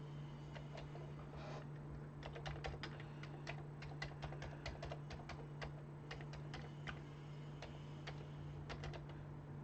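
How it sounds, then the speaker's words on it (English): Keys clatter on a Commodore 64 keyboard in quick irregular bursts of clicks, faint and close, over a steady low electrical hum with no talking. "The keyboard works."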